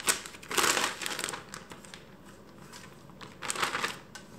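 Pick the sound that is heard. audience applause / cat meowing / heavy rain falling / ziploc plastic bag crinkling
ziploc plastic bag crinkling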